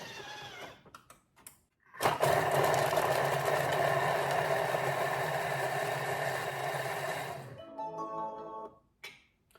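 A kitchen mixing appliance runs at speed 5 on a sweet potato and spinach curry, giving a steady loud whirring drone for several seconds, with brief clicks and handling sounds before and after.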